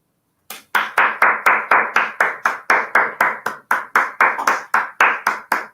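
A single person's hands clap about eighteen times in a steady, fairly quick rhythm, each clap sharp, close and loud, with no voices over it.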